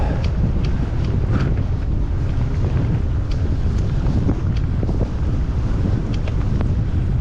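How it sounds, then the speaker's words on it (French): Steady roaring wind buffeting a microphone outdoors during a mountain bike ride, loud and continuous throughout with no pauses, low rumbling gusts dominating everything. "le vent est vraiment pas cool"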